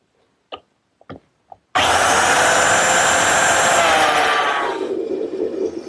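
A power biscuit joiner cuts slots in wood segments so tiny FF size biscuits can join them, a loud steady whine and cutting roar running about four seconds after a few light clicks and knocks, then winding down.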